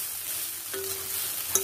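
Chira pulao with cashews and a little sugar hisses faintly in a pan while being mixed, a short, even sizzle with a light clink at the very end and no voices.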